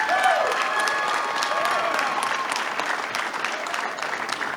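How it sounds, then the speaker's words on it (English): An athletics hall of fame induction crowd breaks into loud sustained applause, dense clapping with faint cheers and a murmur of voices, easing slightly toward the end. "You deserve another round of applause"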